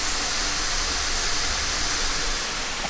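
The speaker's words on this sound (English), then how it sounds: "Wow, they have waterfalls." A steady, dense rush of falling water fills the whole stretch, constant and loud with no pauses or voices.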